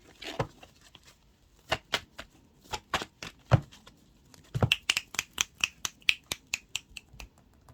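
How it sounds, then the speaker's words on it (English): Sharp, dry taps on a numerology card deck, first spaced out and then coming in a quicker, fairly regular run, close and crisp against a quiet room with no talking. "I'm just tapping over the third eye right now."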